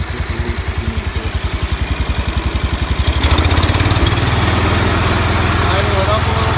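A John Deere 140 H3 lawn tractor engine idles with a loud, rhythmic low putter close by, then settles into a steadier, slightly faster drone; no talk is heard over it.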